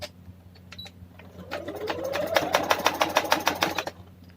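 An electric sewing machine stitches a kurta, starting with a few soft clicks, then speeding up into a rapid, rhythmic run of needle strokes with a rising motor whine for a couple of seconds before stopping, close up with no talking.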